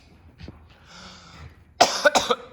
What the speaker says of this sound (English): Thank you for coughing away from me.